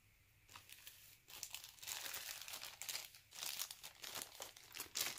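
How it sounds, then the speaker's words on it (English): Tissue paper from a homeschool craft kit being crinkled and handled up close, a quiet, continuous rustle of crumpling and crackling with uneven bursts throughout. "Here is your tissue paper."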